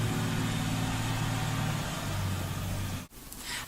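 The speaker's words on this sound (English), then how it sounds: "Really? Buses have to be making all this noise?" Buses rumble past with a steady low engine drone and hum, loud and close for about three seconds before the sound cuts abruptly.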